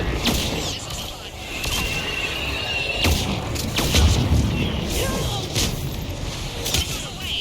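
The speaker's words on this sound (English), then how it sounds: "Missiles away." A missile salvo explodes in Mass Effect as a string of heavy booms and sharp blasts thuds repeatedly over a dense, continuous rumble of battle noise.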